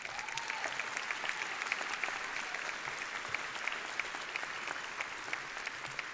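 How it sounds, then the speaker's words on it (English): Sustained applause fills a large college commencement ceremony, a dense and steady wash of many hands clapping together at close range with no pauses throughout. "Let's give them a round of applause."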